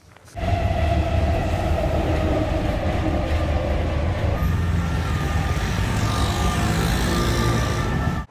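Steady loud rumble of a metro train running on the rails, heard from a passenger riding it, with a rising whine and a shift in tone midway as it moves.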